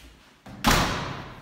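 A door in a video game closes with a sudden close thud after a short shuffle, followed by a fading, echoing rumble.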